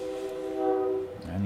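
A train heard on a Sunday, its horn holding a steady tonal blare with rail rumble beneath, moderately loud and continuous, with no voices.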